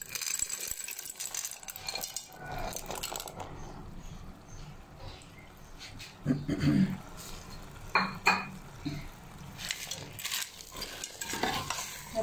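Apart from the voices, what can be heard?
frozen peas added to masala in a cooking pot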